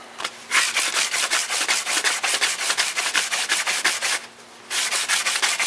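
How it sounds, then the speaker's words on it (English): Sandpaper is rubbed by hand over a PVC pipe while making a flute in the key of A, giving steady, rhythmic rasping strokes close up, broken by two short pauses; no talking. "Slowly rotating while I'm sanding,"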